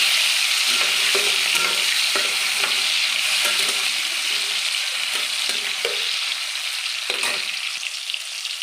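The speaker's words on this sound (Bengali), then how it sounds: "কেটে রাখা টমেটোটা দিয়ে দিলাম" Chopped tomato hits hot oil spiced with dried red chilli, bay leaf, whole cardamom, cloves and cinnamon, loud continuous sizzling close up, with repeated scraping strokes of a spatula stirring the pan throughout.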